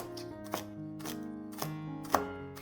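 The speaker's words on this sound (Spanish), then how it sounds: "toma una penca de apio, córtala en tiras y déjala bien picadita" Knife chopping a celery stalk into small pieces on a cutting board for a minestrone sofrito: four crisp, evenly spaced cuts ring out close and clear over a faint musical background.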